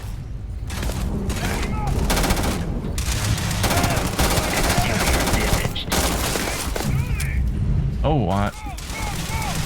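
Rapid gunfire from a Starfield firefight, sustained automatic bursts and single shots running nearly throughout, loud and dense, with a brief voice speaking over the shooting.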